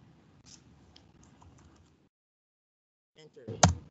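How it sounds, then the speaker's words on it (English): Keystrokes on a computer keyboard while entering a dimension value in Onshape sketch software: soft scattered taps early, a pause, then a quick burst of clicks ending in one sharp, louder key press, like hitting Enter. "You're going to type in"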